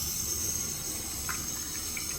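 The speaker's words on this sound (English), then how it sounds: "So, yeah, that's the faucet." Water runs steadily from a hotel bathroom faucet, a constant close hiss with no talking.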